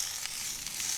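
Onions fry in a pan beside grilling redfish for tacos, giving a steady, close, hissing sizzle that continues without a break.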